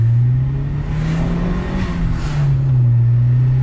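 A 1994 Toyota Celica GT-Four pulling away from a stop sign, its engine a smooth, steady, close drone that rises slightly as the car accelerates.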